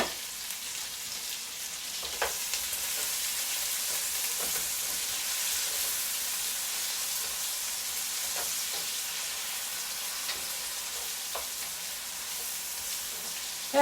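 Red peppers and onions sizzle steadily in a hot pan for a Chinese dinner, a constant broadband frying hiss with occasional small pops and a few stirring clicks, close and continuous with no talking.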